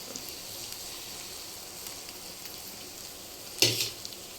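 Mixed vegetables including capsicum fry in a little oil for vegetable noodles, a low steady sizzle close by, with one sharp loud scrape of a utensil near the end.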